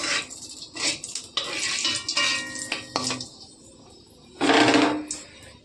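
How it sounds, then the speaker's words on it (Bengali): Nigella seeds dropped into hot oil in a kadai for prawn curry: a few light clinks and scrapes, then a loud, bright sizzle that flares for about a second near the end and fades. "তেল গরম হয়ে গেছে, দিয়ে দেবো কালো জিরে ফোড়ন,"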